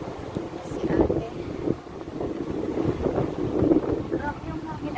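Gusty wind rumbles against the microphone, rising and falling in waves, with distant voices murmuring faintly underneath.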